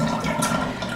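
Water draining out of a tub after a wedding dress has been hand-washed, a brief gurgling rush of flowing water, close and steady.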